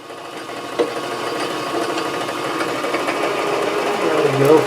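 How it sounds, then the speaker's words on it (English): A homemade wood lathe built like a metal lathe cutting threads on a 1/2 inch part: a steady, close mechanical whirring and buzzing that grows slightly louder, with no speech. "I can use my lathe to thread this"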